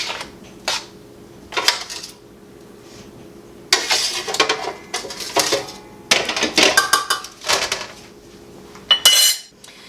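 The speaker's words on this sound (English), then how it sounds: "I'm going to use a slotted spoon to transfer them." Metal slotted spoon clinking and scraping in a pot or pan while watery cooked sloppy joe sauce vegetables are scooped into a saucepan, a run of close, irregular clatters and taps with short pauses between, no talking.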